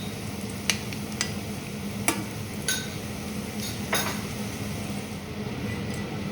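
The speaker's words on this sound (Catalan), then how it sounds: "Els fregim a foc viu al mateix oli que hem utilitzat abans" Thin garlic slices frying over high heat in reused oil, a steady soft sizzle with a few light clinks of a utensil against the pan now and then, close and fairly quiet, no voices.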